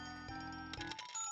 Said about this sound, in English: I'm gonna ring that bell.